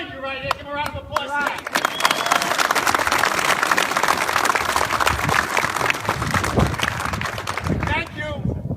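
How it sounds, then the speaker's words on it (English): An audience applauds police officers at a senator's public event, with dense, sustained clapping that swells quickly and carries on steadily, with a voice heard at the start and again as it fades. "Give them a round of applause."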